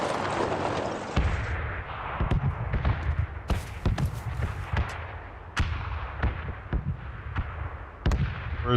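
Video game gunfire crackles throughout, a steady run of sharp, loud shots at irregular intervals with some dense bursts, nearby and with no speech over it.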